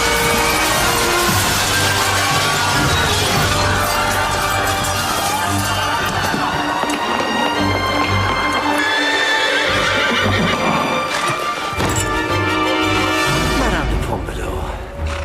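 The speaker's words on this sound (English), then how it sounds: "I do think you're not going to see a horse jump through a mirror into a period ballroom every Saturday" A horse bursts through a mirror into a period ballroom set, with loud neighing, hoof clatter and crashing glass in a dense, continuous, close-up din.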